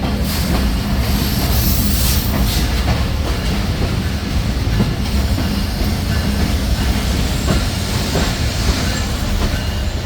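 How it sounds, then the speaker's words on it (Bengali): The Barendra Express intercity train rolls into Santahar railway junction with a loud, continuous rumble, rhythmic wheel clatter and faint squeals, heard up close from on board with no talking. "ট্রেনটি এই মুহূর্তে প্রবেশ করছে বগুড়া জেলার সর্ববৃহৎ রেলওয়ে জংশন সান্তাহার রেলওয়ে জংশনে"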